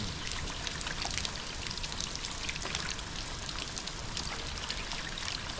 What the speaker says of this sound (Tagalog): Lalagyan natin muna ng tubig para ito ay uminit